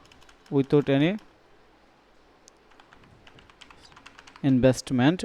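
Computer keyboard typing in short clicky bursts between two stretches of nearby talking, with faint scattered key taps during the quieter middle.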